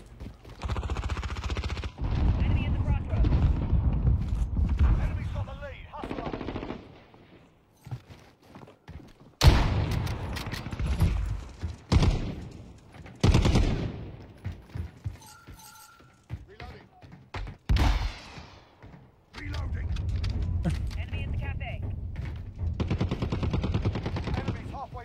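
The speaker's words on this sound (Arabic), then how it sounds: "بدي استعمل صوت سلاح حلو" Bursts of weapon fire in a video game, with rapid automatic volleys and sharp single shots arriving in clusters with short pauses, loud and close, separated by quieter gaps.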